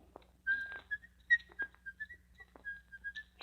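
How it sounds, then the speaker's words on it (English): Whistling in a 1939 radio drama adaptation of Pygmalion: a man whistles a short, wandering tune of thin, breathy notes, moderately close and steady, with a low hum underneath and no talk. "And don't whistle."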